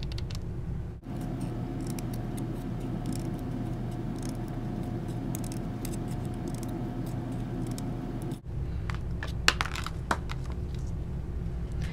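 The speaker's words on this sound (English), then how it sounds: "I'm going to cut towards the center." Scissors snip into stamped clear film to shape the petals of a flower, a few crisp cuts and rustles close up over a steady low background hum.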